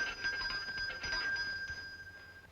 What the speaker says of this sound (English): Sounded like a bell coming from somewhere.